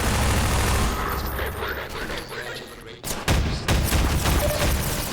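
Loud rapid gunfire from a video game, a dense fusillade of shots that breaks off briefly and then resumes, close and forceful, with a voice faintly underneath.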